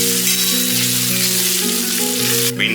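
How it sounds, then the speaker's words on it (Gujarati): Sliced onions fry over medium gas with a loud, steady sizzle throughout, a dense continuous crackle that stays close and unbroken, with no voices. "मीडियम गैस पर એને પણ 3-4 મિનિટ માટે શેકાવા દઈએ"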